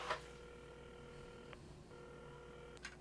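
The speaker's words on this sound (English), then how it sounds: "Carmen had started dialing the phone." A telephone is dialed in the game Assemble With Care: faint, steady dial tones sound at low volume, with soft clicks at the start, in the middle and near the end.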